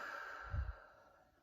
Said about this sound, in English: we're going to take some deep breaths